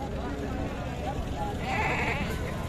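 A goat bleats at a bakra mandi livestock market in a short wavering cry partway through, under someone talking over busy crowd noise.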